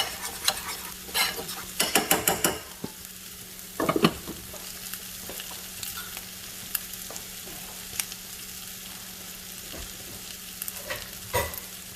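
Grits bubbling and cooking in a pot on the stove give a steady close simmering crackle, with a few louder bursts of stirring scrapes early on and occasional faint clicks.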